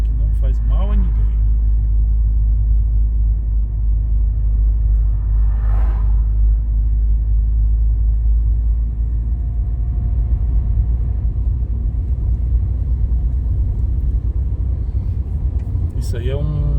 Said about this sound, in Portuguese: Isso aí é um boiadeiro, esse caminhão aí.